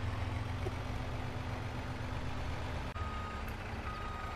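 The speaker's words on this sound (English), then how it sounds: "just parking the lorry up here and shut that down" A lorry in Farming Simulator 22 sounds a steady, evenly spaced reversing beep over a low idling engine drone, moderately loud and continuous throughout.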